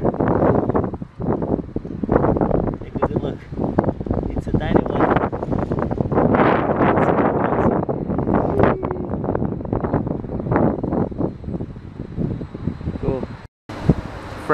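Strong wind buffets the microphone in a constant loud roar, with gusts rising and falling throughout.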